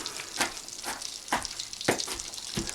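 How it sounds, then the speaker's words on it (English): Butter and olive oil crackle and sizzle in a pan, with a few sharp bursts of spattering every half second or so, fairly close. "So our butter and olive oil is sizzling"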